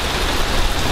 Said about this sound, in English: I ain't know it's gonna rain like this though